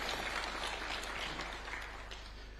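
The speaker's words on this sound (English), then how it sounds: "I humbly request that we give a round of applause to these great men and women of our Republic." An audience at a university charter award ceremony in Kenya claps in a quiet, distant round of applause that fades slightly toward the end.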